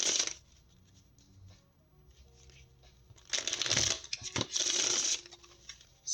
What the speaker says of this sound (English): let me get this a quick shuffle